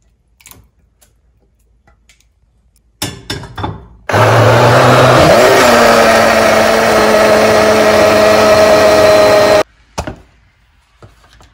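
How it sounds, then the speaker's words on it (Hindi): An electric kitchen grinder blends a paste for enchiladas, starting with a few short clicks, then running in a loud, steady whir for about five seconds before stopping, with a couple of brief knocks after it. "लेकिन मैं इसको क्विकली ग्राइंडर में कर दूंगी।"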